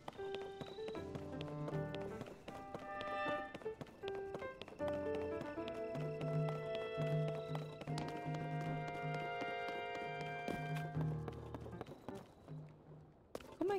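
In Zelda: Tears of the Kingdom, horse hooves clip-clop in a rhythmic run over a layered musical game soundtrack, close and moderately loud throughout.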